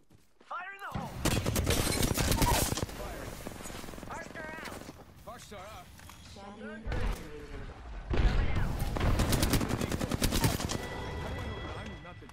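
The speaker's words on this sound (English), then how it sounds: "Shot fired." Bursts of automatic gunfire during a team shooter video game match, loud rapid volleys returning in several waves, with players talking over them.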